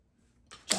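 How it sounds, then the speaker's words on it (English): Tarot cards being shuffled by hand: a brief, crisp riffling burst that swells and ends abruptly after a near-silent start. "I like to finish shuffling my cards."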